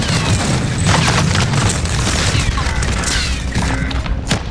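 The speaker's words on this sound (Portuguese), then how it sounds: "Tô tomando muito tiro." Dense, continuous gunfire and explosions from a Warzone battle royale firefight, loud booms and rapid shots filling the whole stretch with little letup.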